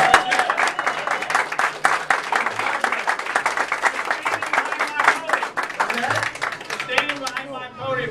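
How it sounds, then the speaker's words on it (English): A crowd at a Wings Plus restaurant where the governor is speaking claps and cheers in sustained applause, dense and steady, with voices mixed in throughout. "Give the dad a round of applause."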